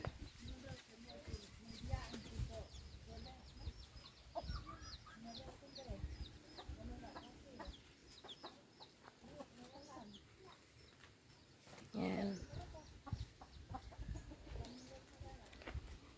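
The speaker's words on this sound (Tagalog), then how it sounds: "may malaking manok na nakakulong dito" Chickens cluck and call intermittently outdoors, including a large caged chicken, with a louder squawk near the end and faint ambient noise throughout.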